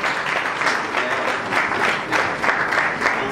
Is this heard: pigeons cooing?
no